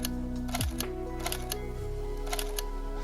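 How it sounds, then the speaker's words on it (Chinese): Mechanical clicks from an OPPO Find X9 Ultra phone while adjusting the color style in its Hasselblad XPan-style ultra-wide camera mode, a few crisp ticks spaced through a steady background tone. "在调整色彩风格的时候就有机械的音效"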